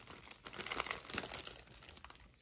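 Taped fabric dust bag pulled and torn open during an unboxing, a short burst of close crinkling and ripping tape and fabric noise with no talk.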